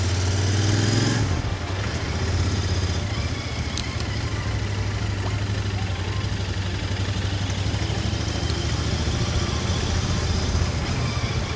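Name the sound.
motorcycle riding on the road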